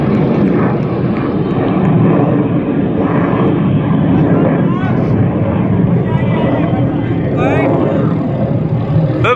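Aircraft engines roar loud and continuous at an air force air show in Prayagraj, a dense sustained drone with a faint crowd murmur underneath.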